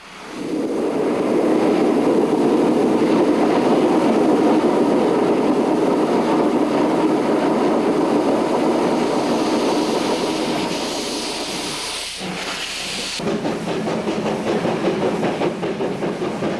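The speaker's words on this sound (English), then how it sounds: "our engine runs around the train and couples on to the other end for the return trip to Virginia City." Virginia and Truckee Railroad train departing near Gold Hill toward Virginia City, a loud, steady rumble of rolling cars that eases slightly near the end before a brief shift in the noise.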